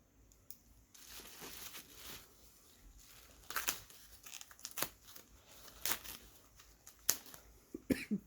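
A small pocket knife slicing open the packaging of a ball-jointed doll, an irregular series of quiet tearing, crinkling and crunching noises, close up and rising in intensity toward the end.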